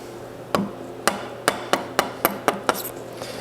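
Sharp mallet strikes on a chisel chop a mortise into a wooden stock for a 1920 Ithaca Flues double-barrel shotgun, eight crisp, evenly spaced knocks coming a little faster toward the end, close and clear.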